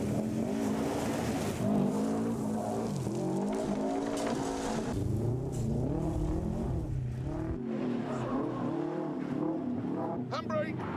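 A rally car driven hard, its engine revving up and down in sweeping pitch with a possible handbrake turn near the end, heard under steady talk from inside the car.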